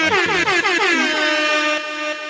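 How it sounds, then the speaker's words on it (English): A loud blaring air horn sounds in quick repeated bursts, then sustains into one long brassy blast, close and piercing. "Let me drop some air horns on that one."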